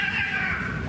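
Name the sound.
neighbour's cats fighting, meowing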